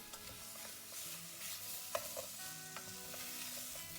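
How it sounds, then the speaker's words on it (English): Pork belly sizzles in a pan with caramelizing sugar as a wooden spoon stirs it continuously, a soft steady frying hiss broken by light scrapes and taps of the spoon. "Use the wooden spoon to stir continuously until the sugar is melted and combined with all the ingredients."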